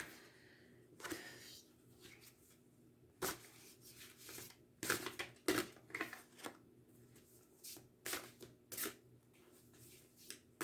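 Tarot cards are shuffled by hand, making irregular quiet bursts of riffling and slapping that are separated by short pauses, with no one speaking.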